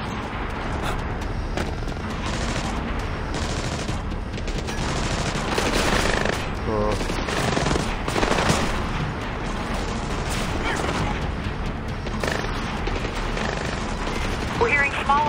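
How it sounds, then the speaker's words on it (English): Small arms gunfire inside an LNG terminal in Splinter Cell Blacklist, heard as a dense, continuous wash of distant rattling shots and booms with steady game ambience throughout and no clear pauses. "We're hearing small arms fire in the terminal, Sam."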